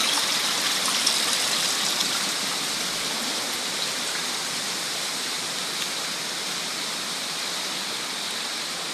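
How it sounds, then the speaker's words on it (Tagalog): Steady, dense hiss of heavy rain mixed with rushing floodwater, constant and loud throughout with no voices. "Aga ah, ina mga ka-idol kusog ang ulan."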